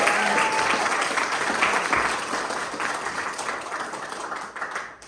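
An audience applauds an Irish music band at an afternoon community gathering, steady clapping that is loud at first and then gradually thins and fades.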